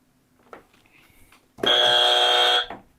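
A quiz show buzzer sounds once, a loud harsh electronic tone held for about a second, preceded by faint clicks and a soft background hum.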